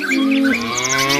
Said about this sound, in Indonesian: Ini sapi.